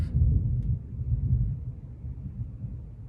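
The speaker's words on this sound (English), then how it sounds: "look, the thunder just went off" Thunder rolls during rain, a low, heavy rumble that swells at once and then slowly fades, with no talking over it.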